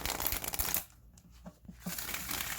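A gold-edged Mary-El tarot deck is shuffled up close, with a papery riffle burst followed by a few soft card taps and slides.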